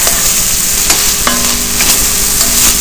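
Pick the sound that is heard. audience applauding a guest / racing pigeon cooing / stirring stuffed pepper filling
stirring stuffed pepper filling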